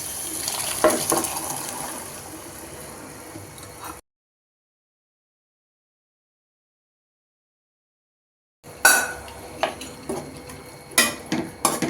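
A utensil scrapes and clinks against a pot of vegetable white kurma in short bursts, separated by a silent gap, with light sizzling and watery stirring sounds.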